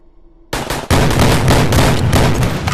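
Gunfire from a weapon in a zombie survival video game, a quiet lead-in followed by a sudden loud, sustained burst of rapid shots that rattles on without pause.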